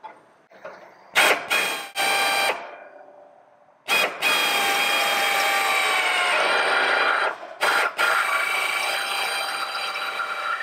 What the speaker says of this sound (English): Now drill more holes!